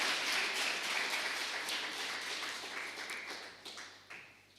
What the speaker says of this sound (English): I believe we can give them another round of applause as they sit down